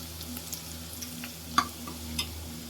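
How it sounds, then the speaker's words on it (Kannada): Turmeric powder frying in a pan for a majjige huli, a faint background sizzle with a few light stirring scrapes and one sharp clink, close and without talk. "ಒಂದು ಅರ್ಧ ಸ್ಪೂನು ಅರಿಶಿನ ಪುಡಿ ಹಾಕಿಂದ ಫ್ರೈ ಮಾಡಬೇಕು."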